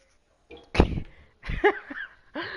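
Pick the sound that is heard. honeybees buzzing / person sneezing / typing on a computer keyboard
person sneezing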